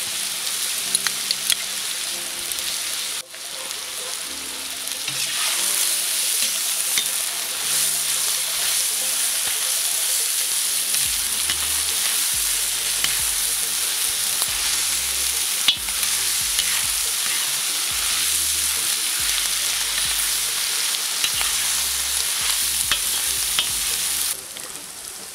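Tomato paste sizzles steadily in hot oil for mastava soup, a dense, loud frying hiss that continues throughout, with a utensil stirring and scraping the pan at intervals.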